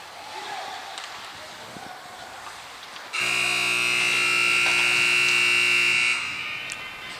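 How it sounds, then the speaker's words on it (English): A loud, steady electronic buzzer sounds for about three seconds to end the second period of a rec hockey game in Oakville, rising abruptly over rink crowd noise and then cutting off. "the buzzer brings to the end the second period of hockey here in Oakville."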